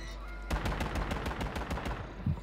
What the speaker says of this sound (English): There's gunshots behind you.